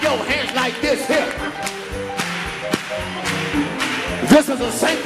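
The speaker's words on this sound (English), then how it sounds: "Clap your hands like this here." A gospel church congregation claps hands in rhythm during a praise song, sharp repeated claps cutting through organ and singing voices at a steady beat.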